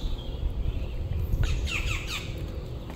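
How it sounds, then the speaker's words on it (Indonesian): Several harsh bird squawks ring out on a rocky mountain slope in forest, loud and near, arriving in quick bursts over a low rumbling background. "dan masih banyak burung-burung yang berterbangan di lokasi ini"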